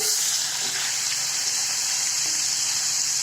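Okra (bhindi) dropped into hot red-tinted oil for masala bhindi, a loud, steady hissing sizzle that fills the pan close up and continues without a break, with no voices.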